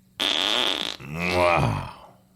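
Fart sound effect: a long, loud, buzzy blast that breaks into a lower, wetter, sputtering second part, heard up close with no talking over it.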